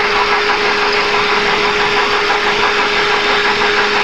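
A 2011 Kia Forte engine idles loudly up close, a continuous steady hum carrying a faint repetitive clicking tick, with no talking.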